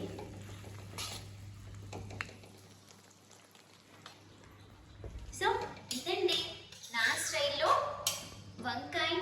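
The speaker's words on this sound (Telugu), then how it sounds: "ఒక్కసారి కర్రీ మంచిగా కలిపేసుకొని" A spoon stirs brinjal smash curry in a pan. Scraping and clattering strokes start faint, then grow louder and choppier toward the end, while someone talks over them.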